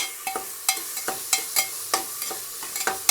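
Sliced onions with salt being sautéed in a pan for Dindigul Thalappakatti mutton biryani, with a steady sizzle under repeated sharp scrapes and clinks of a stirring spoon roughly every half second, close and fairly loud, no talking.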